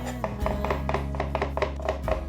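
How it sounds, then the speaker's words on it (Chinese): A knife slices softened, soaked shiitake mushrooms into thin strips on a board, giving a steady run of about a dozen crisp, close chops over a low kitchen hum. "香菇泡软了，把香菇切成细丝"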